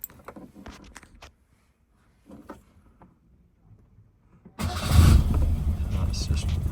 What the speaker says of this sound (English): So, choke now sounds like this.